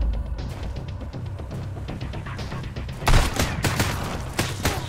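Gunfire in the survival game Sunkenland, a loud series of quick shots over a low rumbling background, with a heavier burst partway through.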